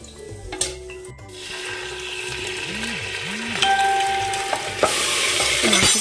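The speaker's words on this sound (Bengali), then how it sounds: "চিনিটা দিয়ে 2-3 মিনিট নাড়াচাড়া করে আমি এর মধ্যে দিয়ে দেবো যে মাখিয়ে রেখেছিলাম মাংসটা, সেই মাংসটা আমি এখন ওর মধ্যে দিয়ে দেবো।" Marinated mutton tossed into a hot pan with sugar over a high gas flame for a red mutton curry, a steady loud sizzle with scraping, clattering stirring strokes of a spoon throughout.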